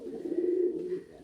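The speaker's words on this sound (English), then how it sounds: "Wukong, the male Chinese owl, trying to get in the middle of that." Male Chinese Owl pigeon cooing, a low steady throaty coo lasting about a second, close and clear with no talk over it.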